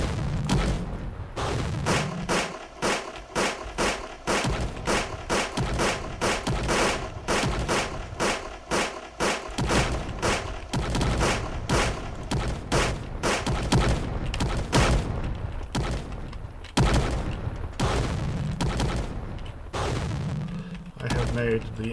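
Anti-tank guns fire in a video game, a dense, loud barrage of repeated shots and booms in rapid succession throughout, with brief speech mixed in.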